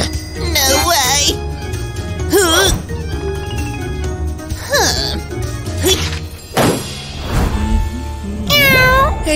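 A cartoon cat meows repeatedly in short, wavering cries spaced a second or two apart, loud and close, mixed with thumps and background music.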